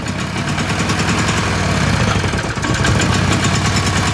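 A generator engine runs steadily with its choke on, giving a loud, continuous rough idle and a rattly drone throughout.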